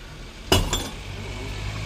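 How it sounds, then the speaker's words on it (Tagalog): Glass shatters once with a sharp crash, then a brief tinkle of fragments, heard at a distance in a quiet room with a low background hum. "may nabasag pala diyan"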